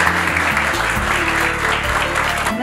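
An audience claps for a poet at a literary gathering, dense steady applause throughout, with a few voices faintly audible underneath.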